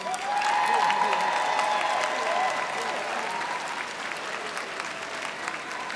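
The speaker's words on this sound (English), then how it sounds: "Let's have one more round of applause for all of our graduates." Audience applause for graduates at the Drexel University College of Nursing and Health Professionals commencement, a dense, sustained wash of many hands clapping that stays loud throughout with faint cheering mixed in.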